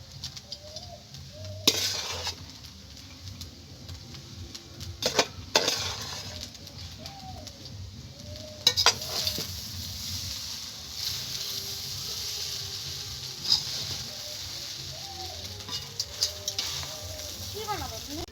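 Ghee-coated fried rice sizzling steadily in a pan as leftover rice is tipped in and stirred, with repeated scraping and clattering of a spatula against the metal throughout.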